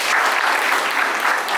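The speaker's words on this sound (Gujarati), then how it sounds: "ટીમને તાળીઓથી વધાવી રહ્યા" Steady applause from a school audience of students and guests welcoming a team at an Agniveer exam preparation event in Chandkheda, dense and even clapping throughout with no voices.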